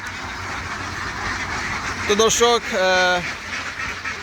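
Ducks being released onto a pond, with a few loud nasal quacks close by, bunched together after a voice with a stretch of murmured background talk.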